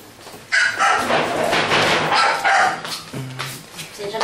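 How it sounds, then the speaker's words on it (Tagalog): A dog barks loudly and repeatedly at a house where visitors are being welcomed, in a burst of close, harsh barks with a person talking over part of it. "Sensya na kayo, maingay yung aso namin."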